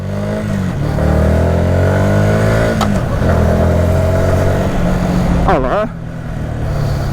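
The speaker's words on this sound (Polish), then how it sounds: "To jest taki motocykl na miasto." Yamaha MT 125 motorcycle engine revving up close, rising and falling in several throttle blips with a sharp climbing rev near the end, someone speaking over it.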